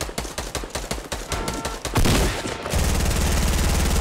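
Rapid bursts of gunfire in Fortnite rattle off in quick succession, followed by a loud blast and a steady mechanical hum.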